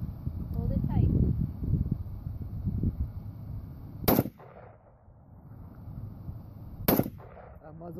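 Two sharp, loud firearm shots ring out about three seconds apart at a shooting outing, each cracking through steady wind rumble and low voices.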